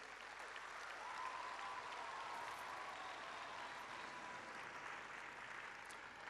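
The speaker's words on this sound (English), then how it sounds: "Please, round of applause for all of those people" Audience at a youth arts festival performance applauds, a steady, even roar of many hands clapping that holds at constant level for several seconds, somewhat distant and soft.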